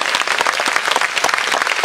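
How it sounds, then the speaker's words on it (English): An audience applauding a folk band at a live concert, heard as a close, dense burst of clapping that stays steady throughout, with no voices. "give a round of applause to the band"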